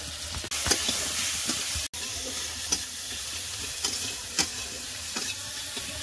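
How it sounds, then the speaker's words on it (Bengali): Chopped onion and garlic frying in oil with salt and turmeric, a dense continuous sizzle up close with light periodic scrapes and taps of a stirring spoon, no voices. "পেঁয়াজ রসুনের কুচিগুলো একটু ভাজা ভাজা হয়ে গেছে"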